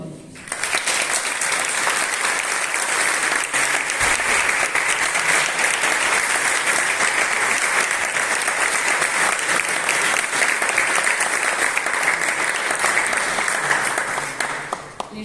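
Sustained, full applause from a concert audience greeting a music society band on stage, steady and dense for about fifteen seconds before stopping abruptly.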